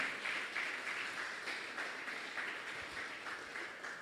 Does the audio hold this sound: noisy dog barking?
no